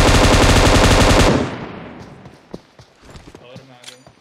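A video game firefight, with sustained rapid automatic gunfire blasting loud and close for over a second, then scattered lighter impacts and clatter trailing off.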